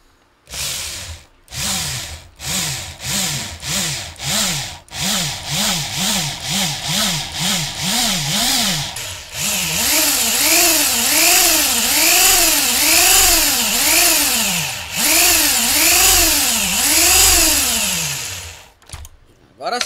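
A power drill whirs in repeated bursts, its pitch climbing and falling with each squeeze: short rapid pulses at first, then longer, louder runs, used in repairing a Sony FX1000 camcorder focus error.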